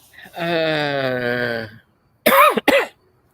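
A sustained, strained vocal tone like a throat-clearing groan, followed after a pause by two short, sharp coughs close to the microphone.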